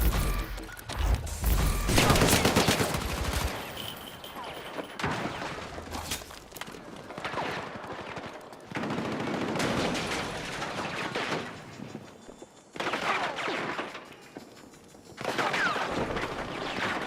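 Gunfire in a video game: bursts of rapid automatic shots and loud cracks, close and dense, broken by short quieter gaps, with no clear talk over them.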